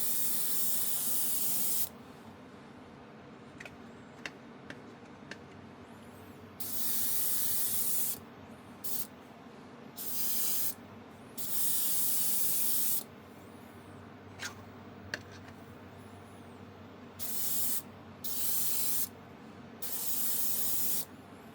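Aerosol spray paint applied as a second coat on a model railroad layout, heard as repeated bursts of bright, close hissing of varying length, separated by quiet pauses with no talking.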